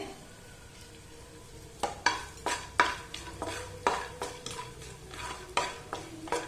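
Almonds roasting in ghee in a pan for rava laddu, with a steady low sizzle under repeated close spoon scrapes and clinks against the metal pan, and no talking.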